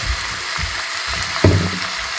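Oil hisses and sizzles in a hot pan while vegetarian spaghetti stir fry is cooked, a steady close frying crackle with a sharper burst of spitting partway through, with no talk.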